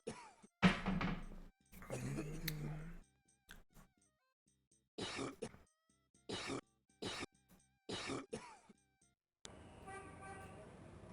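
Coughing in the point-and-click game Gabriel Knight: Sins of the Fathers, several short separate bursts spaced by quiet gaps, followed by a low buzzing background, with a brief voice near the start.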